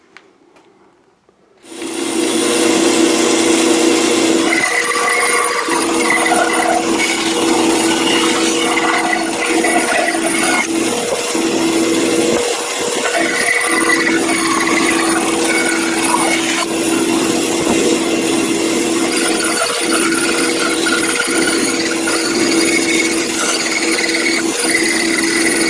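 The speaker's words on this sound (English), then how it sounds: "bandsaw." A bandsaw cuts through maple wood in a steady, loud, continuous whine that starts abruptly after a brief quiet moment and holds with small variations for over twenty seconds, close by and with no talk.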